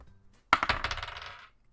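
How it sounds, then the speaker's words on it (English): A caramel-coloured die drops onto a hard surface and clatters in a quick run of bouncing rattles that fade out, close and clear, with no talk over it. "I'm rolling more of like a caramel colored dice"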